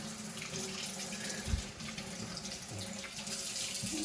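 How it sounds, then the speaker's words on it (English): Hands are rinsed under a running kitchen tap, a steady close splashing stream of water that varies slightly as the hands move through it, faint overall and with no talk. "I'm going to rinse off here."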